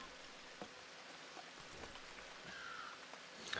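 Steady rain falling in a video game, a soft continuous hiss of drops with faint patters at moderate distance and no talking.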